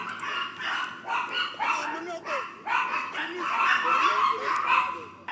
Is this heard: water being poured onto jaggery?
no